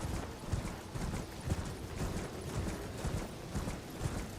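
Horse hooves of the Night Cavalry in the video game Elden Ring thud in a steady galloping clip-clop, moderately loud and close, repeating evenly with a faint metallic rattle behind.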